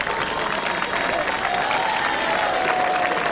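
Racecourse crowd at Kempton applauding the winner of the 1989 King George VI Chase, Desert Orchid, a dense steady wash of clapping with a commentator talking over it.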